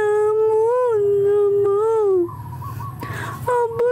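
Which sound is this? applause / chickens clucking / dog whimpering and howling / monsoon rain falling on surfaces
dog whimpering and howling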